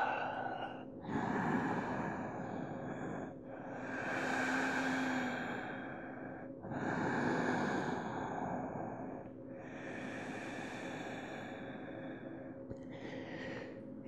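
Slow, deep breathing during a yoga class, long drawn inhales and exhales repeating in an unhurried rhythm, close and soft with no talking.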